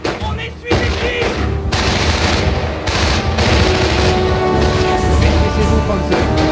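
Sustained machine-gun fire rattles loud and close in the World War II strategy game Company of Heroes, bursts overlapping with booming impacts for several seconds, under faint battle chatter.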